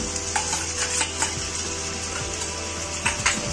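Goat liver with whisked yogurt is stirred in a pan over a busy sizzle, with intermittent scraping and clinks of the utensil against the pan, close and without speech.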